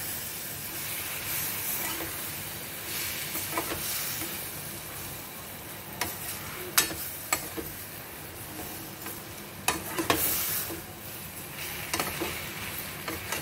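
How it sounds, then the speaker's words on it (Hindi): Taro (arbi) leaves are stir-fried into a dry vegetable dish, with a continuous soft hiss of frying broken by occasional sharp clicks and scrapes of a spoon against the pan. "अब इसको हम अच्छे से चलाएंगे"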